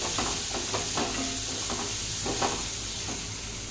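Salt is stirred into a mashed potato mixture in a pan, with soft scraping strokes repeating under a low steady sizzle heard up close.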